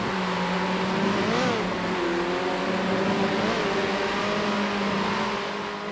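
Racing kart engine from an early-access karting video game, a steady buzzing drone that rises and dips in pitch as it accelerates and shifts, continuous and close with no talking.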